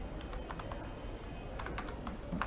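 Soft, scattered keystrokes sound on a computer keyboard at a quiet, moderate distance, a few taps at a time over a low room hum.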